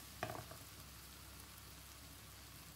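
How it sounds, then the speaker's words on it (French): Olive oil seasoned with pepper and paprika cooks in a pan over high heat, giving a steady, quiet sizzle throughout with a brief louder crackle near the start. "Je laisse cuire maintenant comme ça à feu fort"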